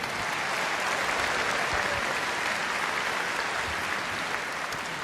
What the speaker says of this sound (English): please give a round of applause to everyone who is working so hard in Scotland, in Wales, and across the United Kingdom